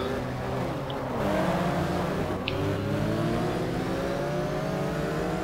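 A Porsche race car engine in GTR 2 at Hockenheim drones and revs steadily, pitch climbing through gears in sweeping rises, loud and close with no talking.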